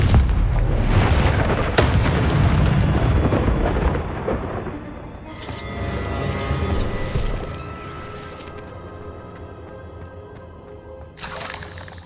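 In the video game Hogwarts Legacy, a Confringo fire spell blasts inside a cave with a deep, booming explosion that rumbles and fades over several seconds before a second burst, as a shouted incantation comes through at the start.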